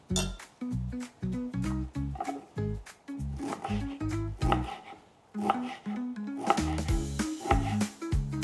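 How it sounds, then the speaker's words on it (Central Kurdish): A knife chops fresh dill on a cutting board in quick, close, rhythmic bursts of sharp taps, pausing briefly before resuming faster. "ئێستا دەستەکەم بە وردکردنی شبیتەکەشم"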